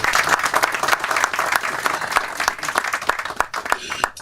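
An audience at a community meeting of cabin owners breaks into applause, dense clapping from many people, loud and close, with voices mixed in beneath it.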